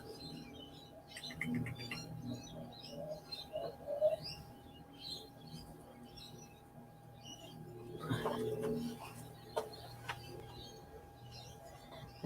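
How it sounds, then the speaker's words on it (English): Resident magpies call near a woodworking space in the afternoon, giving scattered chirps and warbling notes at moderate distance, with a denser burst of calls later, over a faint steady hum. "Resident magpies are here for their afternoon snack."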